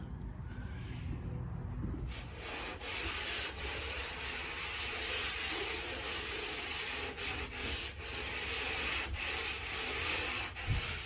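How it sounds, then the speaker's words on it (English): Drywall installation in an old house yields close, continuous rasping and scraping with a few sharp knocks scattered throughout, and no voices. "So this is the first bit of drywall installation in the house."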